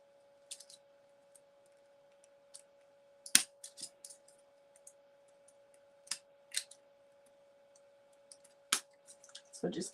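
Scissors cutting apart metal craft dies, sparse sharp snips and clicks spaced irregularly in a quiet room with a steady faint tone underneath.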